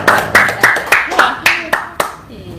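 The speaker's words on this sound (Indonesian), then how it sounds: "Tepuk tangan dong." An audience at an Indonesian gathering claps hands in a regular rhythm of about eight crisp, loud claps spaced roughly a third of a second apart, with voices murmuring underneath.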